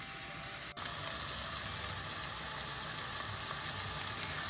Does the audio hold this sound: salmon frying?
yes